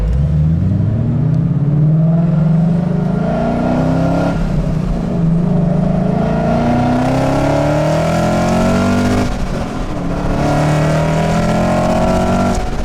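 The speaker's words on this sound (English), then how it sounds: "that sound that just reverberates off the side of that wall is just absolutely epic" A supercharged 2015 Ford Mustang GT with a Ford Racing exhaust accelerates hard through the gears, its loud, rising V8 roar echoing off a nearby wall with brief dips at each shift.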